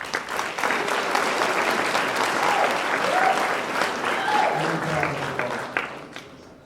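Loud, sustained applause from a concert audience at a high school guitar concert, steady clapping filling the room for several seconds with faint cheering and voices mixed in, tapering slightly at the end.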